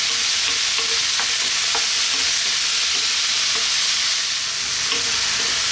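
Tomatoes sauté in a pan for Filipino ginisang pechay, a loud continuous sizzle with light scraping and tapping as they are stirred, and no voices.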